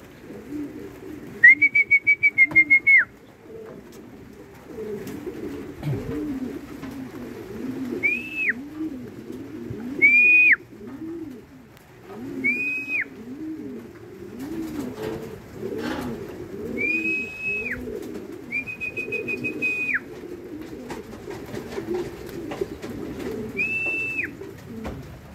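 Racing pigeons coo in soft, repeated rolling phrases throughout, with several sharp high whistles cutting in at intervals.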